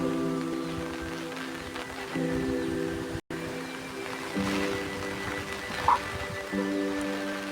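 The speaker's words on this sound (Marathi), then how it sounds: "भरपूर असं पाऊस चाललेला आहे" Steady rain pattering on a hillside in fog and wind, a continuous soft hiss with a faint tonal hum running underneath.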